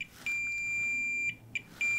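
A multimeter in diode mode, its probes on a shorted iPhone 12 Mini board, gives a steady high tone broken by a few short gaps and blips, quiet and with no talking.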